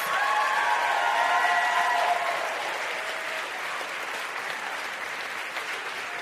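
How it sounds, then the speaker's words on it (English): An indoor audience applauds steadily as panelists walk onto the stage at a Washington, DC rally event, with dense clapping that stays strong and then eases slightly, plus faint crowd murmur. "Please give a round of applause."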